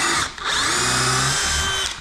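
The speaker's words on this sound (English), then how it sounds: "the drill bit goes through no problem" A power drill bores a hole and then grinds in with a very dull countersink bit, giving a steady loud whine with a brief dip early on, close and alone without talk.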